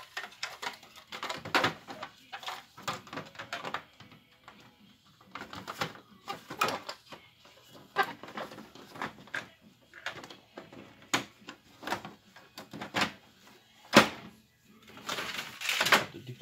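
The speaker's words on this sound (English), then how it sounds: "You want to put the covers back." Plastic covers being snapped and pushed back onto a Brother laser printer after a fuser repair, heard as scattered close clicks, clacks and rattles with brief quiet gaps.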